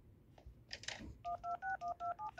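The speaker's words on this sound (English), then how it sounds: "Hey, you want to make a prank phone call?" Touch-tone telephone dialing for a prank call in an animated sitcom: after a brief rustle, a quick series of about eight evenly spaced, loud DTMF beeps plays with no talking.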